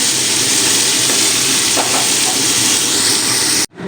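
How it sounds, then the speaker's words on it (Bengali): Cauliflower fries in hot oil in a pan with a loud, continuous close sizzle and hiss, a few soft stirring scrapes, then cuts off abruptly at the end. "ফুলকপিটাও আমি হালকা করে ভেজে নিলাম"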